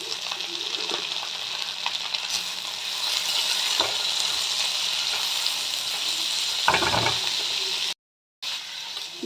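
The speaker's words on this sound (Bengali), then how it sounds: "এবার একটু ভালো মতন ভেজে নেব। এবার আমি পেঁয়াজ দিয়ে দিলাম।" Onions frying in a pan while cooking a breakfast dalia pulao, giving a steady, close sizzle with occasional stirring scrapes and a short drop-out near the end.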